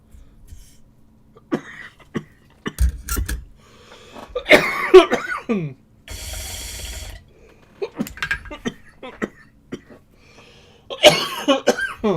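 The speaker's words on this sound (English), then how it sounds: "Oh, I'm getting the coughs now." One person coughs repeatedly in scattered harsh bursts over several seconds, close to the microphone, with throat clearing and breathy gasps between fits.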